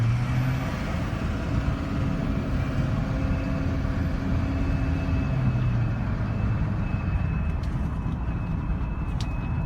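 A 2009 Chevy truck drives along with a steady, loud engine and road rumble throughout, the drone rising and falling slightly, with no talking.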